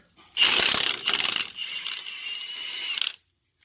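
Tool loosening 17 mm bolts on the front knuckle of a 2002–2006 Honda CR-V, a close burst of metallic ratcheting and clinking that buzzes on for about three seconds, then stops.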